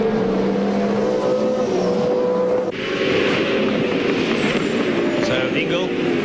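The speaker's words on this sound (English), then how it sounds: "This is the speed line on board the Caterpillar Ford AU XR8" Caterpillar Ford AU XR8 V8 Supercar onboard at the 1999 Ipswich round, engine note droning loudly then dropping sharply as the brakes go on before the motor picks up again, with commentary talking over it.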